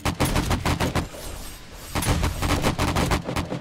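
Rapid bursts of automatic gunfire cut down zombies during a horde night in 7 Days to Die with the War of the Walkers mod, loud and dense, pausing briefly mid-clip before more sustained shooting resumes.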